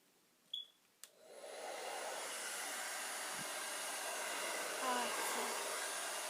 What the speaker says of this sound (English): So I'm going to turn the hair dryer on